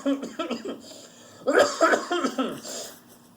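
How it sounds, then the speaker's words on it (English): A man coughs several times in a rough, uneven burst, with some throaty, laugh-like sounds mixed in, fairly close and moderately loud. "Watch him start coughing."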